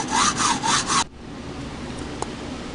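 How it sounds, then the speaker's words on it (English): A hacksaw rasps back and forth through the glass globe of an LED light bulb in four quick, loud strokes, then stops abruptly, leaving quiet room noise with a faint click afterward. "get yourself a hacksaw and cut the globe off the top"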